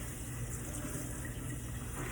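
Running tap water pours steadily over hair during a hair wash, a constant, even rushing wash of sound with no breaks and no voices.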